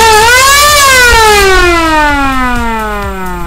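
A battery-powered, remote-controlled DIY party siren wails very loudly up and then slowly down in pitch, a single long sweep sounding alone with no talking.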